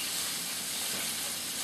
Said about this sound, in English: I like that sound, that sizzling, you know, that the wok is really hot